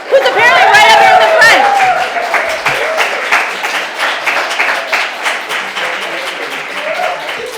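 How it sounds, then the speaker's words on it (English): Poetry-reading audience breaks into long, dense applause, loud and close, with chatter and light laughter from the crowd mixed in as the clapping carries on. "you have to like applaud for quite a while so they get up"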